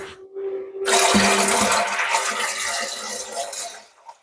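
Well water gushing into a canner in a home kitchen, starting abruptly as a loud, hissing splash that pours steadily for about three seconds before stopping.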